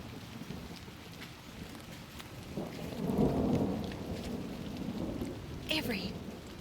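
A thunderstorm with steady rain falling and a swelling rumble of thunder rolling through midway, heard from a home with a toddler present, with faint voices in the background.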